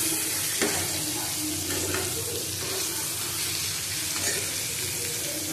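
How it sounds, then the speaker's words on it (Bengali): Bitter gourd frying in a pan, a steady dense sizzle throughout with a few faint clinks and stirring scrapes, close up and continuous, no speech. "সবজিগুলিও বেশি ভাজার দরকার নেই, শুধু উচ্ছেটা ভাজলাম"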